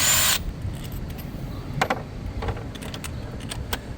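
A hand tool works an ignition coil bolt loose on a 2019 VW Tiguan engine, giving a loud burst at the start and then a few sharp metallic clicks and taps, close by, with no talking.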